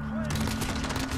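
Rapid Mini Uzi submachine gun fire in Call of Duty Modern Warfare, a dense continuous burst of shots heard close with a faint voice underneath.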